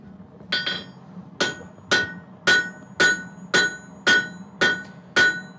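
A hammer strikes a steel blade in a workshop, nine sharp ringing blows at a steady, unhurried rhythm, each with a bright metallic ring that decays quickly, close and loud with no talk.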